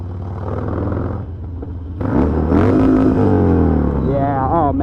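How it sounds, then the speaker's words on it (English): Harley-Davidson stunt bike engine revving freely after a retune, a low idle rumble climbing into loud rising revs with a sharp jump midway and falling pitch sweeps near the end, close to the microphone. "oh man, that is so much more free revving than it was before"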